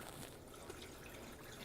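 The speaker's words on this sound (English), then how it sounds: "The first thing I'm going to do is pour some vinegar in here." Vinegar poured over raw chicken pieces in a pan for Puerto Rican barbecue chicken, a faint, steady liquid trickle lasting under two seconds with no one talking.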